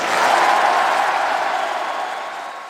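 A large, ecstatic crowd at a Marine Le Pen and Jordan Bardella rally roars and cheers in a dense, continuous wash of voices that slowly fades over a few seconds.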